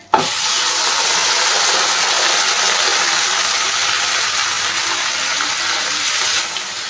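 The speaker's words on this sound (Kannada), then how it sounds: "ತರಕಾರಿ ಎಲ್ಲ ಬೇಯಿಸಿಟ್ಕೊಂಡಿರೋದನ್ನ ಇವಾಗ ಹಾಕಿದ್ದು ನೀರು ಸಮೇತ" Boiled vegetables and slightly sprouted peas are poured with their cooking water into a pan of upma. A sharp splash starts a loud, steady hiss that holds for about six seconds, close and alone.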